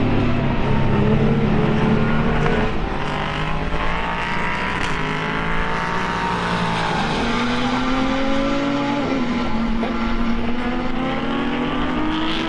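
A BMW GT3 race car on track at Autodrom Most in an endurance race, its engine roaring loud and steady with shifting pitch as it brakes and accelerates through gears, with no talk.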